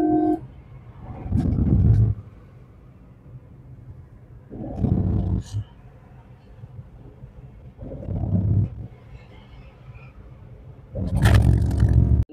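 A car engine driving in third gear during a driving lesson, with the engine note swelling in several separate surges while running between them at a lower, steady hum.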